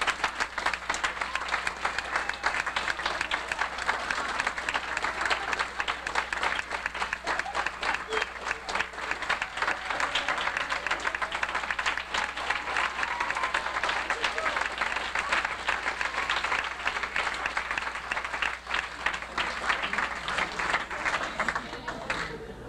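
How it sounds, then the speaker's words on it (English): Students on a high school marching band and swing choir trip applauding their chaperones, a loud, dense round of clapping from a large group, sustained throughout with murmured voices underneath. "students, let's give another round of applause to the chaperones"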